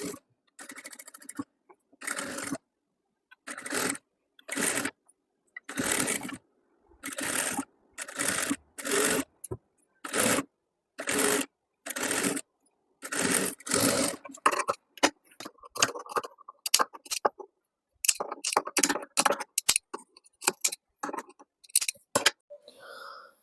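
Sewing machine stitching the armholes of a little girl's lined ball dress, in repeated bursts of rapid whirring separated by short pauses, with quicker, choppier runs toward the end.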